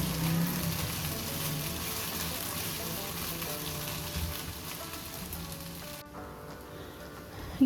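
Makhandi halwa roasts in a pan with a loud, dense sizzle and occasional stirring scrapes, steady for most of the stretch before dropping to a quieter crackle near the end.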